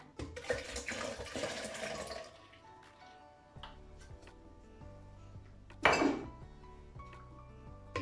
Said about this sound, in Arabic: غادي نزيد في هذه الاثناء الكميه المتبقيه ديال الماء